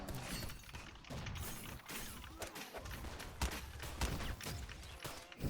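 Dragon Rifle gunfire in the video game Graal Online Era, a rapid string of sharp, crackling shots in irregular bursts, quiet overall with shattering impacts layered through the barrage.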